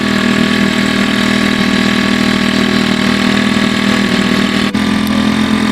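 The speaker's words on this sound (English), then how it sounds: "We're sucking it from the barrel through the pipe, through the pump, putting it into the tank." An engine-driven pump runs loudly and steadily, drawing maple sap from a barrel through a pipe into a tank, a constant mechanical drone with no talking.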